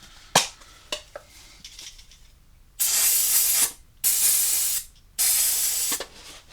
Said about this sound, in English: So we'll just give this a little bit of a clean with some clutch cleaner.